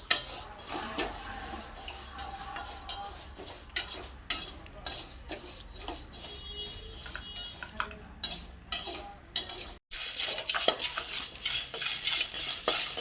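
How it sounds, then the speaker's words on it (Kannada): Toor dal dry-roasting in a pan, stirred constantly with a metal spoon that scrapes and clinks against the pan, the dry lentils rattling and rustling, close and busy, with a brief pause near the end. "ತೊಗರಿಬೇಳೆನೂ ಅದೇ ಕಲರ್ಗೆ ಕಪ್ಪಾಗೋವರೆಗೂ ಹುರ್ಕೋಬೇಕು"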